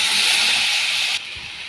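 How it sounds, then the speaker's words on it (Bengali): Tomatoes hit a pan of hot oil with a loud, close, broad hiss of steam and sizzle that runs steadily, then abruptly drops to a quieter frying hush. "এখন টমেটোগুলো দিয়ে দেবো, দিয়ে ভালো করে নেড়ে করে নেব।"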